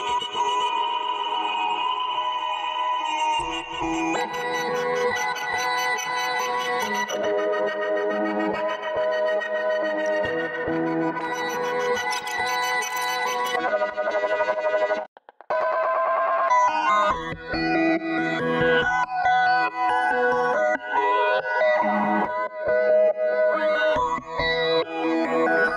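Synth pad run through a Guitar Rig effects preset: a dense, continuous wash of sustained chords with a modulated, distorted, echoing texture, loud and unbroken except for a brief dropout near the middle.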